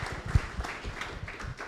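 An audience at a community preparedness discussion breaks into a short burst of clapping, a dense patter of hands that is close and fairly steady, with faint voices mixed in.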